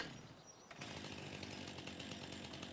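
A chainsaw cuts a tree in the video game Farming Simulator 25, starting abruptly after a short quiet lead-in and then buzzing steadily and loudly to the end.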